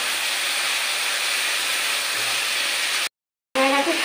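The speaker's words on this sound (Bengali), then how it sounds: "আমি একটু ভেজে নেবো মাংসটা।" Chicken pieces frying in a little oil in a pan, a loud, steady sizzling hiss that cuts out briefly, then returns with a brief faint tone.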